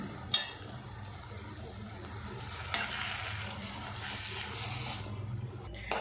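Okra curry with curd, cumin powder and kasuri methi being stirred in a pan, a steady close sizzle and bubbling broken by a few sharp spoon knocks, with no one talking.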